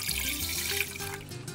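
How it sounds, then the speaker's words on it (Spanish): Water poured from a tap into a cooking pot on a kitchen stove while making atole, a steady close splashing run that lasts the whole moment without talk. "En una olla agregamos el agua"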